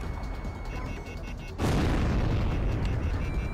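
A weapon explosion in the flight combat video game Ace Combat X: Skies of Deception, a sudden loud boom that swells into a sustained rumbling roar over steady game background noise.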